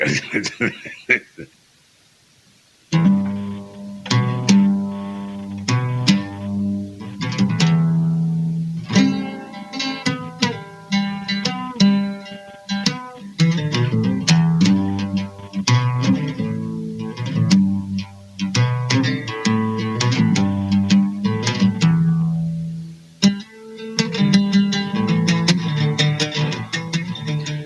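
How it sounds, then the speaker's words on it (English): An oud played up close, plucked notes in quick melodic runs and strummed phrases, with a short pause near the beginning. "The sound you're hearing is an instrument that goes by several names"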